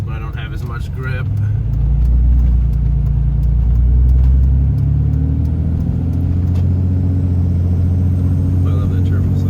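A Cummins diesel pickup tows a trailer through snow, its engine building from a low rumble into a loud, sustained drone with a turbo note. A voice speaks briefly at the start and again near the end.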